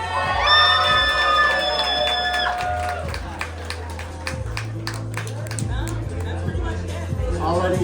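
An audience at a drag show cheers, whoops and claps in a loud, lively burst, with shouts and chatter running through the noise.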